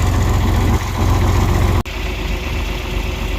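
A John Deere 4020 tractor engine idling nearby, a steady low throbbing rumble that holds constant throughout with a brief dip partway, no talking.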